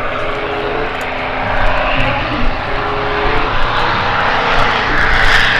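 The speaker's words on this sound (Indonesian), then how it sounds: "di sini ada kapal terbang toy plane" A loud, steady toy propeller-airplane engine drone continues throughout, rising slightly in intensity, with no voices.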